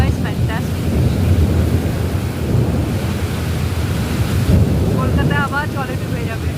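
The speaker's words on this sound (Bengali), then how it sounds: "ভাল লাগে না এই লাইটিং, এই বাজ পড়া, এটা একটু ভয় লাগে।" Heavy rain over Kolkata seen from a balcony, a dense loud roar of rainfall and wind with deep thunder rumbling, and a short high voice near the end.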